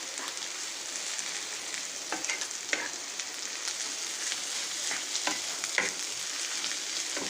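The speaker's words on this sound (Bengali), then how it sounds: "তো ডিমটা আমি সবজির সাথে খুব ভালো করে মিশিয়ে নিচ্ছি।" Egg and vegetables fry over high heat in a pan, with a constant close hiss of sizzling broken by repeated scraping strokes of a spatula as they are stirred together.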